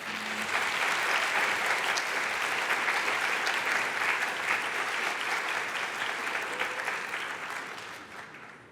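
Audience applause welcomes a speaker at a university diversity forum, steady clapping from a sizable crowd that holds for several seconds and then gradually fades out.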